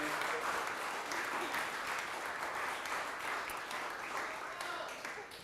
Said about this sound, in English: can we have a round of applause for Mel?